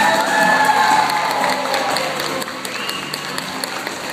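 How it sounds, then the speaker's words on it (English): Steady applause from a crowd for a performing seal at a show, a continuous wash of clapping that fades slightly toward the end, heard from a moderate distance. "Let's give our seal a big round of applause"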